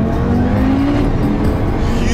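Skoda Octavia RS with a 2-litre turbo engine and a stainless steel exhaust revving loudly up close, a continuous rasping drone.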